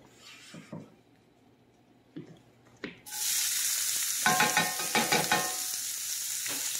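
Chopped medium onion hits hot olive oil in a pan and breaks into a loud, steady sizzle with stirring clatter, after a few quieter knocks and utensil sounds.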